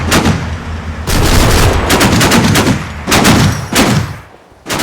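Artillery barrage in the WWII strategy game Combat Mission: Final Blitzkrieg: bursts of loud, rumbling impacts and rapid firing come in three dense waves separated by brief lulls, with no talk over them.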